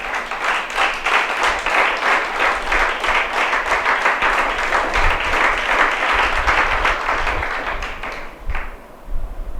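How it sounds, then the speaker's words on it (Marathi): A church congregation applauds, a dense burst of many hands clapping steadily for several seconds before thinning out at the end. "किती लोक टाळ्या वाजवतील?"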